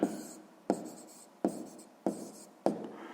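Pen writing out a sixth-grade math exercise solution on paper, five short bursts of scratchy strokes separated by brief pauses, close and quiet with no voices.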